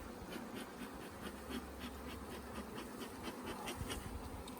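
Honey bees buzz steadily around an open hive during a honey harvest, a dense continuous drone, close and even in level throughout.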